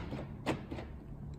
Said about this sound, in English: We'll close the door, try and lock it.